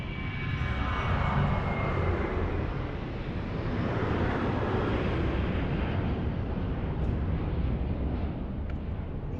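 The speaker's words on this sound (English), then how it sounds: "We might not see that so well, but we'll definitely hear it. This is an A321neo." An Airbus A321neo roars down the runway on departure from Lisbon airport bound for Ponta Delgada, a loud, steady broadband jet rumble holding without a break, with no voices.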